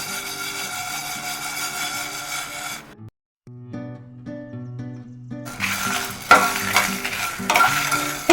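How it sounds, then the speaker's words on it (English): Whole spices are dry roasted and stirred in a pan for prawn curry, with a light scraping sizzle under steady music that drops out briefly midway before returning louder. "roast the spices until they are barely warm to remove the essential oils in them"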